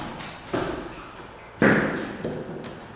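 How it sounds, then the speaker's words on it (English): Nail gun driving pins into a nosing piece made from laminate flooring scraps, giving three sharp thuds spaced about a second apart, close and moderately loud in a quiet room. "So I will use nail gun."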